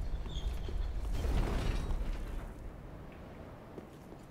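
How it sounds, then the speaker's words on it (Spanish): A large door in Dark Souls 3 grinds open with a creaking, ratcheting mechanism that swells to a heavy rumble around the middle and then fades to a quiet tail, with no talking. "Puerta se abre."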